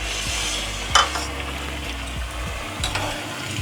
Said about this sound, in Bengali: এই কটা আমি এবার ভেজে নেব।